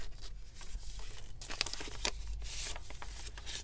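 Paper envelope in a handmade botanical journal being handled, with several crisp crinkles and rustles, a couple of sharper snaps near the middle, close and soft against quiet room tone.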